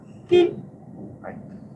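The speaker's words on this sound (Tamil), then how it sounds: "அதுக்கு ஒரு முறை ஹார்ன் அடிச்சிருங்க" A single short car horn toot, fairly close, followed by faint road and engine noise.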